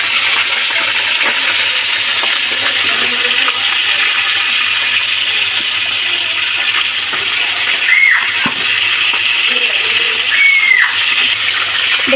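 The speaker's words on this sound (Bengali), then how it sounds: "এবার আস্তে আস্তে আমরা আর মাছগুলো দিয়ে দেবো। এবার ভেজে নেবো এগুলোকে।" Ar fish pieces fry in hot oil, giving a loud, dense, continuous hiss and crackle close by, with a few faint clinks, no voices.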